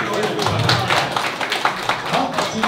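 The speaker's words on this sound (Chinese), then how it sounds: "我们为这场比赛掌声好吗？" Scattered hand claps from the audience after a sanda kickboxing bout, light and uneven, under an announcer's amplified talking.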